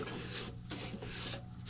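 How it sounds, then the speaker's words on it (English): Paint scraper pushed across a 240W Optek wax blocker to clear off wax, making soft, close scraping strokes in a few short passes over a low steady hum. "you can also get like a paint scraper, maybe, to kind of get the"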